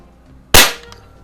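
A single sharp crack from a Crosman Pellmaster 700 .22 CO2 pellet rifle, a loud close pop that fades quickly against quiet outdoor background.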